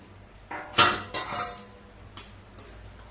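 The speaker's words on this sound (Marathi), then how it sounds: "झाकण काढूया" A few metallic clanks and scrapes of a lid coming off a kadhai used for baking nankhatai, followed by two lighter clinks, in a quiet kitchen.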